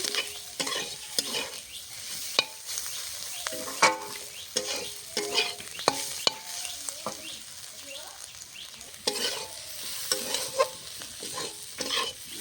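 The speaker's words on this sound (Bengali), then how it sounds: "আর কিছুক্ষণ ভেজে নেব।" Fish-oil chachchari with whole spring onions and fish bladder frying in a pan, a busy sizzle with repeated clanking stirs of a ladle, close by, with faint birdsong and a brief voice in the background.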